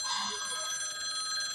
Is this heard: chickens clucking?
no